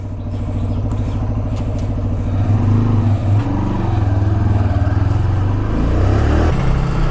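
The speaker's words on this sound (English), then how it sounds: "Let's go for a short ride on this RAIDER 125." A 2025 TVS Raider 125 motorcycle on a road ride, its engine thrumming loudly and close, rising in revs as it accelerates and shifts through gears, with wind and some traffic noise.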